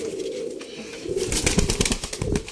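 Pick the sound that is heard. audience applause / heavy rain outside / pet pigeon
pet pigeon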